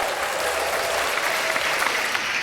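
Loud, dense applause from many hands fills a podcast intro, a steady wash of claps running unbroken from start to finish with no gaps.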